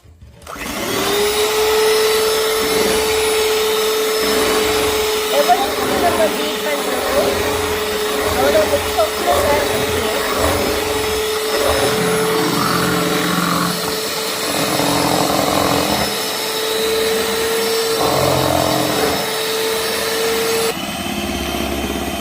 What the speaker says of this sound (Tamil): இதப்போ நல்லா பீட் பண்ணுவோம்